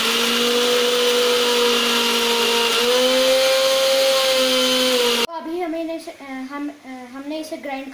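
A mixer grinder pulverizes Oreo biscuits with a loud, steady motor whine for about five seconds, then cuts off abruptly and a voice talks.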